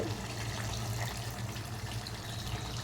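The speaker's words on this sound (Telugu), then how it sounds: "వాటర్ వేస్తున్నాను చూడండి" Water poured into a pot of mutton curry in a pressure cooker, a soft continuous splashing pour at low level.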